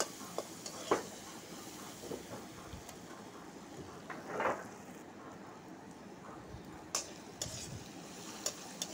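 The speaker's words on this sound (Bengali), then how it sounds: "হলুদ আর নুন সাথে ভালো করে ভেজে নিব আলুটা।" Potatoes frying in a pan with turmeric and salt, a faint steady sizzle with occasional scrapes and stirring knocks, heard close but quiet and without voices.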